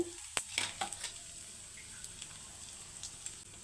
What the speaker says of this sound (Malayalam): കുറച്ച് കടുക് ഇട്ട് കൊടുക്കുക. രണ്ട് വറ്റൽമുളക്,